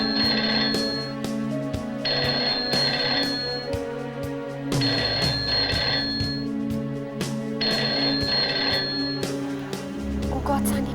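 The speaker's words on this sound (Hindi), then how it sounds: "please pick up the phone" A phone rings in repeated bursts, its electronic bell pattern cycling several times over a steady musical background, fairly loud and close.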